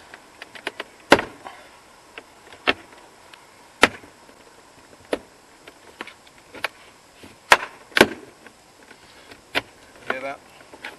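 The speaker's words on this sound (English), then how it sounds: "That's the sound of the clips coming off" Plastic retaining clips popping loose from a Volkswagen Scirocco front door card: sharp, isolated snaps and cracks spaced a second or two apart, close and fairly loud over quiet background rustle.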